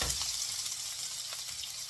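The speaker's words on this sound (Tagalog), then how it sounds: "hintayin po natin na mag-brown ang ating bawang at sibuyas" Garlic and onion sauté in a hot pan, giving a steady, even sizzle with soft crackle throughout a short stretch and no voices.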